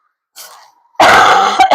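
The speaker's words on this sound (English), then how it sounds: "Excuse me as I cough right onto my freaking mic." A person with a bad wheeze coughs loudly right into a close microphone, a short throaty rasp followed by a harsh, forceful cough burst.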